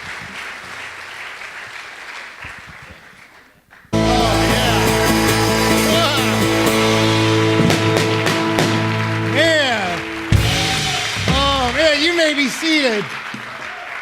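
Broadband applause from a church congregation at a thank-you celebration for Bob and Janet fills the opening seconds, then gives way to sustained tonal music, with a voice speaking briefly.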